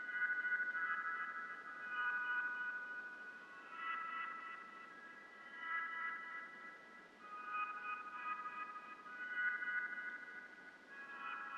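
Chopped keyboard sample, reversed and doubled in speed for an R&B beat, plays as bright, warbling repeated chord swells that rise and fall in short bursts, steady and moderately loud with no voices.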